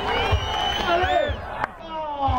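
Spectators at a pro trial bike competition cheer and shout with scattered clapping, a lively crowd roar under excited voices, with a sharp burst near the middle.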